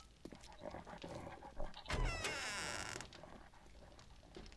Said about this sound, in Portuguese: Esse aqui é um cachorro, um pastor alemão.